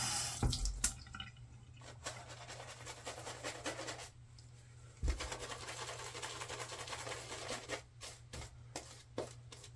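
Water runs from a tap in bursts, gushing loudly, stopping briefly, then flowing again, with a few short clatters near the start.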